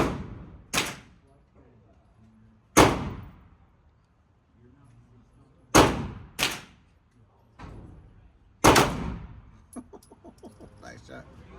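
Pistol shots, from a Walther PDP or Springfield Echelon, crack out singly at an outdoor range, about six sharp reports spaced a few seconds apart, each ringing briefly, with a person talking in the background.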